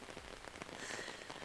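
Heavy storm rain pelts down steadily in a dense, hissing wash, with a faint gusty undertone of strong wind throughout.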